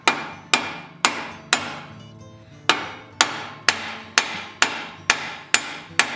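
A hammer taps hot steel on an anvil while a snake is forged for a candle holder: about a dozen sharp, ringing metallic blows in steady rhythm, with one longer pause early on, close and alone.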